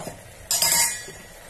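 A spoon stirs garam masala into pea and soybean masala rice in a pot, giving a short burst of metallic clinks and scraping after a quiet start.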